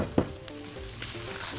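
Onion hitting pasta in a hot pan while it toasts for Egyptian-style pasta, a steady close sizzle with a brief louder burst of stirring near the start, continuing alone without talk.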